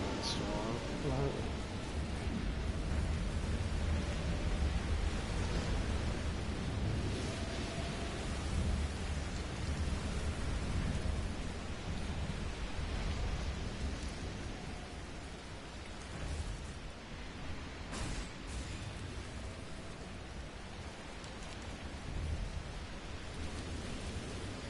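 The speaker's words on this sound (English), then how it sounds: "Going out to the storm." Heavy rain hisses steadily through a storm in the Outriders video game, with low rumbles of thunder rolling underneath and some voices over the scene.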